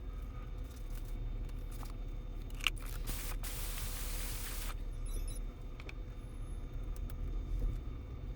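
Car rolling slowly into a parking lot, a steady low engine and road rumble running throughout with a brief brighter hiss midway and faint small clicks near the end.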